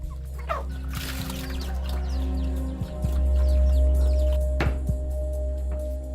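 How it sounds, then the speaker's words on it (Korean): A few chickens cluck and murmur at a rural farmhouse where pigs are also kept, the soft calls scattered over a steady low background hum, with no talking. "대부분의 농가가 그러하듯 이 집의 주인 역시 몇 마리의 닭과 돼지를 키우고 있다"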